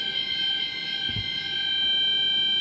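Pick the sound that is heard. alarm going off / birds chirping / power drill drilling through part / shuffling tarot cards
alarm going off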